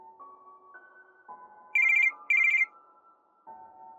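A phone rings in two short, bright electronic bursts over a quiet sustained tone in the background, near and clear with no talking.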